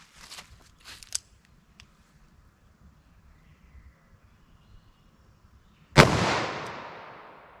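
A single sharp, loud gunshot from a .32 H&R Magnum revolver with a 4.2-inch barrel, fired with DoubleTap copper hollow points into clear ballistic gel, arrives after a few faint handling clicks and leaves a long fading tail.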